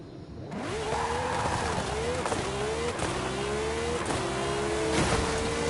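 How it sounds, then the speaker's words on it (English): Lamborghini engine in Forza Horizon 5, loud and close, revving hard and climbing in pitch several times as it shifts up through the gears, with a steady roar underneath. "just gonna gun our Lamborghini engines and just let them sing"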